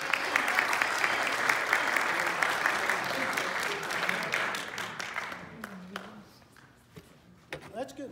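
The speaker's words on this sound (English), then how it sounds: "Give Pastor a round of applause." An audience at a 2023 pickleball club meeting applauds a pastor, dense clapping for about five seconds that thins into scattered claps and taps as a voice begins speaking.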